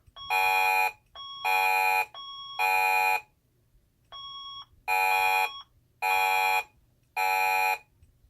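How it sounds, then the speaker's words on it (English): A Tyco/ADT Safewatch Pro 3000EN fire alarm sounds in repeated loud, even pulses, each a steady bright tone lasting under a second, with one brief two-tone chime between them. "The fire alarm has been activated. Please evacuate the building."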